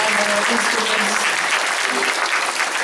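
Concert audience applauding a band, a steady, dense wash of clapping throughout, loud and close.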